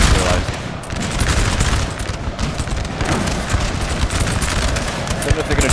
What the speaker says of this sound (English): They are actually killing their own chasseurs. That is unfortunate. Get back, boys. You're getting shot by the guns there.